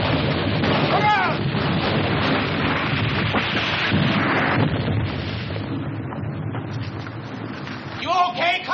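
Artillery fire in a 1951 World War II film, a rumbling barrage of booms and blasts close by, with voices talking over the bombardment.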